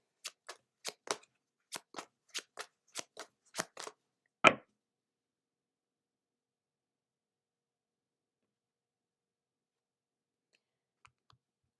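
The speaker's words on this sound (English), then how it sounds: "we will pull a card from the Chakra Wisdom Tarot" Cards drawn and flicked from a Chakra Wisdom Tarot deck: about a dozen crisp, quick snaps in a steady run over four seconds, the last one loudest, then near silence with a few faint ticks.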